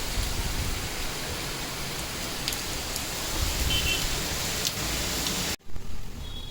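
Steady rain falls with a dense, even hiss that holds close and fairly loud, broken by a brief dropout near the end before the patter resumes.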